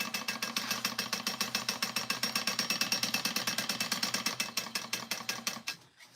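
A sewing machine runs steadily, basting stitches through fluffy fabric on a crossbody bag, its needle hammering in a fast, even rhythm close by for several seconds before slowing and stopping.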